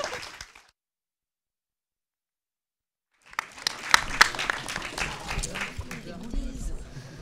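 After a brief silence, an audience bursts into sustained applause for young start-up representatives at a presentation event, with whoops and crowd noise mixed into the dense clapping.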